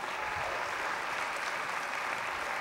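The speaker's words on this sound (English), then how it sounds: "Another round of applause for Kirsten and Darren." Awards-show audience gives a round of applause for Kirsten and Darren, a steady wash of many hands clapping, somewhat distant and unbroken.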